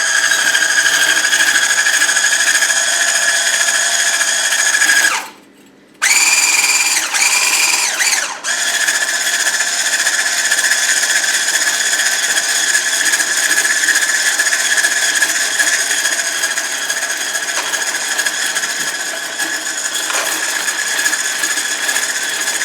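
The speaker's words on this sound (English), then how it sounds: "which you're going to add while you're whisking the egg whites" An electric mixer whisks egg whites with sugar, a loud, steady high-pitched whir that cuts out briefly near the middle and then resumes, running on without talk.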